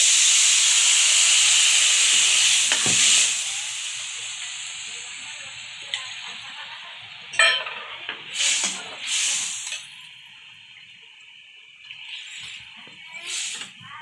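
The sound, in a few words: ground fennel paste poured into pan of sautéed onions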